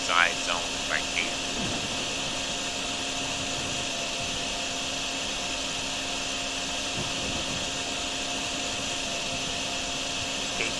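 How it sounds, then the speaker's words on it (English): A video game vacuum drains water from a flooded zone, giving a loud, steady mechanical whir that runs continuously throughout, with a few brief sputters at the start. "Keep running back and forth with my vacuum until I can drain enough of the water"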